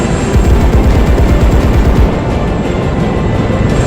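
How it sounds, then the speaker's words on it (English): A 30mm aircraft gun fires in a combat flight video game, a loud dense rumbling burst of rapid rounds that eases slightly midway, with no talking. "Nothing like the sound round of a 30mm gun"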